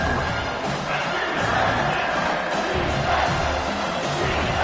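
A football stadium crowd roars and cheers for the home defense, a dense, sustained wall of voices at steady loudness throughout.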